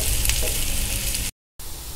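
Ingredients fry and get stirred in a pan before ground paste is added for a rice porridge and green gram meal, a steady close sizzle with scraping, briefly cut to silence.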